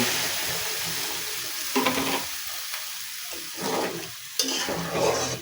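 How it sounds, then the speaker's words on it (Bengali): Water poured into a hot pan of curry, with sizzling and stirring that swells and fades in several bursts over steady frying. "তারপরে একটু পানি দেব।"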